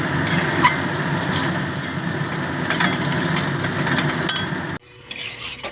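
Cumin and ginger stirred in a hot pan with turmeric, a steady close sizzle with soft scraping and clinks of the spoon, before the frying noise drops away near the end, with no talking.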